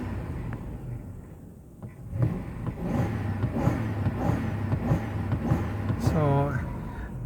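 A Toyota Land Cruiser V8 engine runs with a steady low hum and a slight rise in revs, heard close by beneath someone talking over it.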